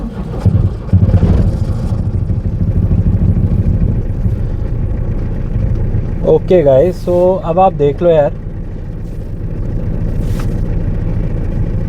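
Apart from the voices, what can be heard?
old Tata Telcoline 4x4 pickup engine starting and running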